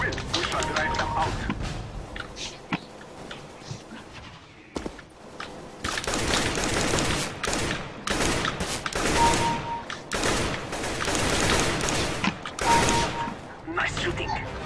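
Gunfire in a first-person shooter game played on a gaming PC: dense bursts of rapid automatic fire and weapon mechanisms, loud and close, broken by a brief lull before heavier sustained shooting resumes, with speech mixed in.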